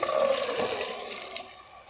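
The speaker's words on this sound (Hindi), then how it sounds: "अब हम इसमें डालेंगे बॉईल किए हुए चने, पानी के समेत डाल देंगे इसे" Boiled chickpeas tipped into a pan together with their cooking water for chole, a loud watery pour and splash that trails off over about two seconds.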